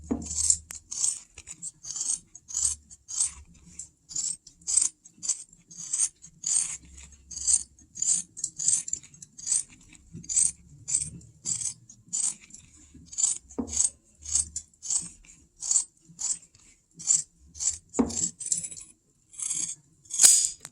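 Scissors snip away excess fabric around a sewn tent-pole snap patch on a boat cover, a long steady run of crisp, close cuts repeating about once a second.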